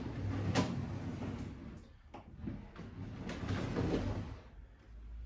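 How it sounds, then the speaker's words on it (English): An antique campaign chest drawer slides out in a faint, smooth wooden scrape with a few soft knocks and rumbles, heard close and quiet. "can you see how smoothly the drawer comes out?"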